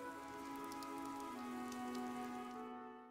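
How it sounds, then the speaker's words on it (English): Steady rainfall in the video game Fire Emblem: Three Houses, a dense continuous patter on surfaces with a faint tonal music bed beneath, trailing off at the end. "This rain threatens a coming storm."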